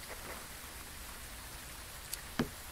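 Rain in the horror video game Phasmophobia, a soft constant hiss of falling drops at a campsite, with two brief sharp ticks near the end and no voices.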